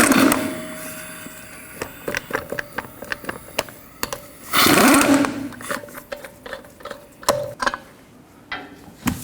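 Lug nuts coming off a 2009-2017 Chevy Traverse front wheel with a 22mm socket: close metallic ratcheting clicks and clatter in bursts, with a louder whirring stretch midway and sharp clanks of nuts and tools, no talk.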